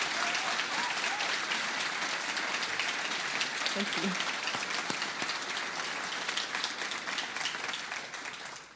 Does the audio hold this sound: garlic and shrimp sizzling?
no